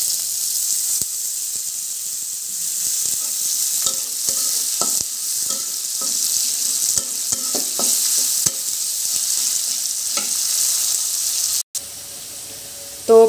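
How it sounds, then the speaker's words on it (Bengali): Onions and garlic frying in oil in a wok make a loud, continuous hiss, broken by repeated spatula clacks and stirring scrapes, with a sharp knock near the end. "এর ভিতরে আমি পেঁয়াজ এবং রসুন দিয়ে দেব।"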